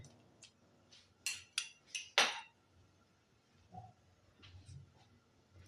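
Metal spoon clinking against a pan while milk is stirred over a high gas flame for a milk cake, a few sharp clinks clustered near the middle, then quieter scraping.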